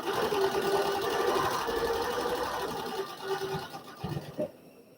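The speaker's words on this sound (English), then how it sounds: "we are ready to sew the last seam, which is the middle of this block" A sewing machine stitches the final center seam of a quilt block, running steadily and fairly close for about three seconds before slowing and stopping, with a few soft clicks and handling sounds at the end.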